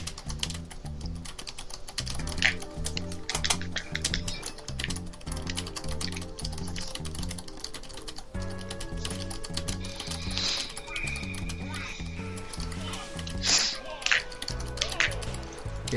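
Rapid, uneven clicking from typing on a computer keyboard fills the clip, close and fairly quiet, with irregular bursts of keystrokes and a faint voice in the background at times.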